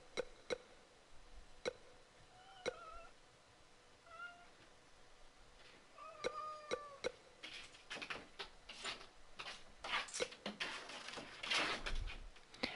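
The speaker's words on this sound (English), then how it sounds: "I'm sorry if y'all can hear Momo meowing in the background" A pet cat named Momo meows repeatedly in the background of a room, several short rising calls spaced over the first seconds, then buried under louder bursts of game audio and clatter.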